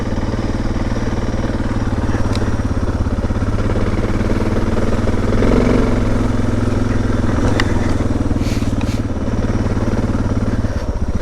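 A Suzuki DR650 motorcycle rides along in second gear on a foggy country road, its single-cylinder engine a steady, loud, close drone throughout with a light mechanical clatter.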